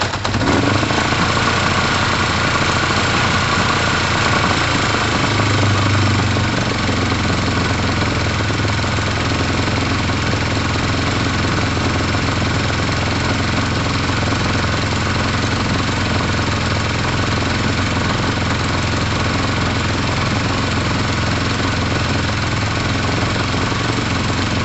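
Engine starting and then running steadily on a machine with a fan and red warning lights, a loud continuous drone with no speech over it.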